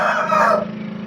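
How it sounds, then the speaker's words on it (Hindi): A large, heavyweight cream-coloured Aseel rooster crows once, loud and close, its call fading out after about half a second. "क्रीम कलर का मुर्गा है, बड़े कद काठ वाला है।"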